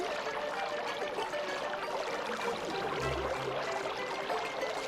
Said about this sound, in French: Le courant est canalisé dans un bief et le débit est important.